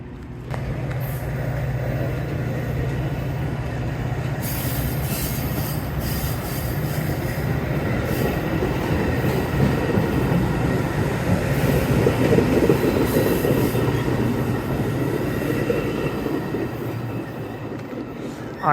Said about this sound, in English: Train number 2007 to Aurora is now arriving.